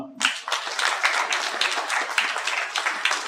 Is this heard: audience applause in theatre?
yes